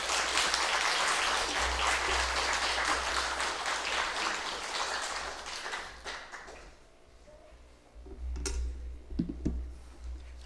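A church congregation at a Friday evening revival service applauds to welcome the pastor, steady dense clapping that fades after about seven seconds, then a few scattered claps and taps.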